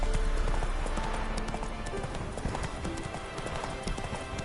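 In The Witcher 3, the horse Roach clip-clops at a steady walking rhythm, with hoofbeats repeating clearly and fairly close over an ambient game background.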